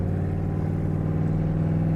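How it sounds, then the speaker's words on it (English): The exhaust of a 1940 Ford street rod rumbles on the move, a loud deep burble that pulses steadily throughout with no voices. "Listen to that exhaust."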